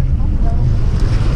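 Heavy sea swell and strong wind surround a small fishing boat out for webfoot octopus and cuttlefish, a loud continuous low rumble of water and wind noise with no break.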